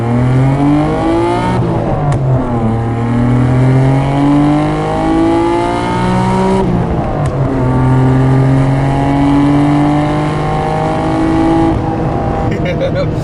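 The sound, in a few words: Skyline RB engine accelerating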